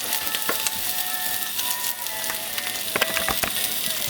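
Half a stick of butter melts with bacon fat in a pan, giving a soft, steady sizzle broken by scattered clicks and scrapes, close but fairly quiet, with no voices.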